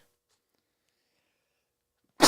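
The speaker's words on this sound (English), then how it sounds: "Sorry for the loud sneeze, folks." Near silence broken at the very end by one sudden, loud sneeze close to the microphone.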